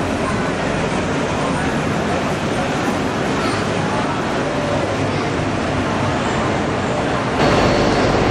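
Continuous rumbling train noise heard from inside a four-carriage train near Prague, a steady broadband roar with rattling, growing slightly louder near the end.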